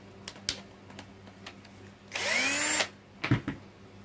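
A Phillips screwdriver takes screws out of a Lakoni jet cleaner spray gun. A close, loud whirring burst lasting under a second is surrounded by small clicks and taps of handling.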